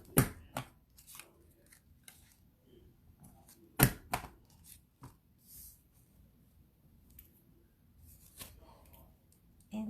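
A corner punch clicks through cardstock as paper corners are rounded, giving a series of sharp, close snaps and clicks spaced irregularly, with faint handling noise between them.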